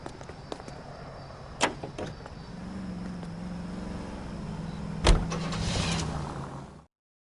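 Car driving in LA Noire: a low engine hum rising and falling over several seconds, marked by a few sharp clunks and one heavier thump before it cuts off, with no talking.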